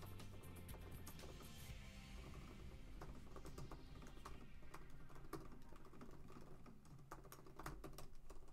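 Fast, continuous typing on a computer keyboard, close and fairly quiet, with a steady patter of key clicks and no talk.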